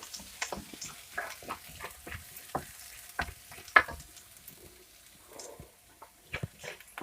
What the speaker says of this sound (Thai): แล้วก็ที่ใส่กระเทียมลงมาเจียวนะจ๊ะ เจียวให้หอมดีจ้ะ